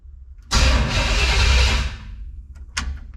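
A 1976 Chevy LUV pickup engine starting from a newly installed key switch, a loud cranking catch into a steady roar for over a second, then fading, followed by a short second rev.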